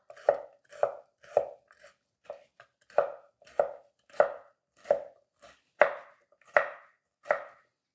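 A knife chops food into smaller pieces on a cutting board, with about a dozen crisp, evenly spaced thuds up close and brief quiet gaps between them.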